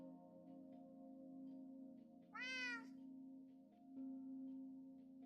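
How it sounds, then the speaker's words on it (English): A cat meows once in a Minecraft world, a single clear rising-falling cry standing out over a steady low background hum, with no talking. "Kitty cat, don't run away."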